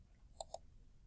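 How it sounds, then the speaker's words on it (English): Two crisp computer mouse clicks come in quick succession, faint and close, against near silence. "and then you click Paste."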